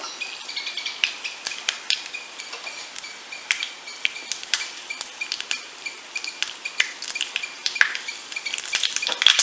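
Cumin, fenugreek and mustard seeds sizzle and crackle in hot oil in a pan for a South Indian sambar tempering, a steady fry with dense sharp pops throughout, close and with no talking.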